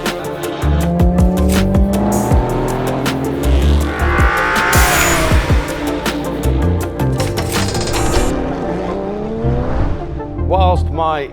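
BMW E24 635CSI Motorsport Edition, a modified 1980s GT coupe, pulled out of a shop with loud engine revving and tire squeal under steady vehicle noise, with a voice briefly near the end.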